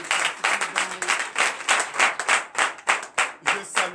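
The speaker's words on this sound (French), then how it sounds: "Donc je vous demande d'applaudir encore très fort." A church congregation at a Sunday service claps strongly, with dense, rhythmic bursts of hand clapping in waves, close and loud, and no talk over it.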